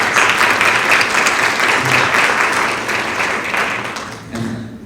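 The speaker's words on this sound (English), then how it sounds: "I just want to give them a round of applause" Steady audience applause at a refugee resettlement agency community event, a dense wash of clapping that holds loud for several seconds, eases slightly, then swells again near the end.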